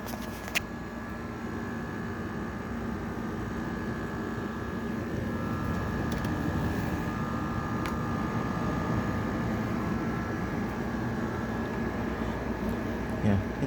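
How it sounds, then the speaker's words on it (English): A General Electric 5,050 BTU window air conditioner runs steadily with its compressor and fan, a constant low hum and airy whoosh with a faint tonal drone, moderately quiet, with occasional talk over it. "the compressor is not that loud at all"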